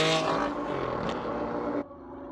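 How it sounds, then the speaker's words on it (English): A Ferrari Enzo drives past, its engine roaring loudly and close before cutting off abruptly, leaving a quieter background. "There goes the Ferrari Enzo."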